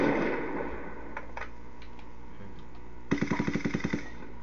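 Video game gunfire: a single muffled shot early, then a rapid automatic burst of about eight evenly spaced shots near the end, fairly loud against a low background.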